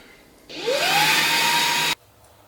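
A Jashen vacuum cleaner switches on at medium power, spins up with a rising whine into a steady loud roar for about a second and a half, then cuts off abruptly; no talking.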